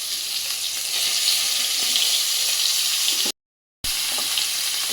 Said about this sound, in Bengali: এখন এই দুটাও ভেজে নেব